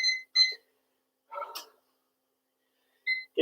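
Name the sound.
workout timer beeps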